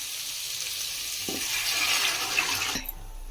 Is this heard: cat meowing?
no